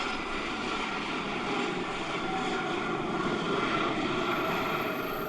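Aircraft engine drone at an approach to Cristiano Ronaldo Airport in Portugal, a steady broadband roar holding level and fairly close for several seconds with no voices.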